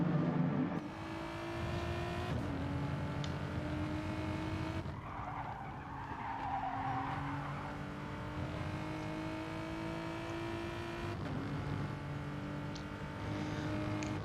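A Porsche race car in a racing video game on a short track, its engine revving loud and close through upshifts with rising and falling pitch, and tires squealing and skidding through the corners, with no talking.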